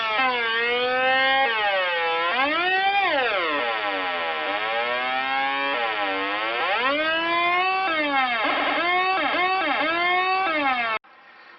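A homemade dub siren built around a 555 timer chip sweeps its pitch up and down in loud, continuous electronic wails, the sweeps speeding up and changing shape before cutting off abruptly.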